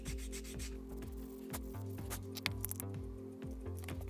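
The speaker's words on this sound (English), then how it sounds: "Sanding edges again," The edges of a handmade leather shoulder bag are sanded in quick, rhythmic rubbing strokes, a close and steady scratchy abrasion repeating about twice a second with no voices.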